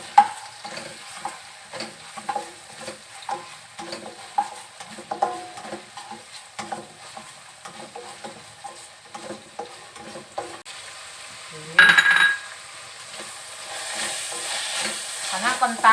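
Ground spice paste for a potato, carrot, vermicelli and egg pastry filling is stirred and fried in a pan, with repeated scraping strokes over a soft sizzle, a sharp hissing burst near the end, then steady frying.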